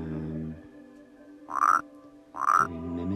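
Frog in the video game Rusty Lake Paradise, croaking twice in loud, close, evenly spaced calls over a soft, tonal musical drone.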